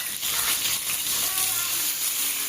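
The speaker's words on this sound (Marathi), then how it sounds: "आता कट केलेले टमाटे आहे ना, हे आता आपण तेलात परतून घेऊ" Chopped tomatoes for shahi paneer hit hot oil in a pan, giving a loud, steady, close hiss of sizzling that never lets up.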